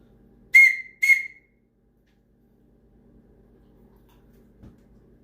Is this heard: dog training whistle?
yes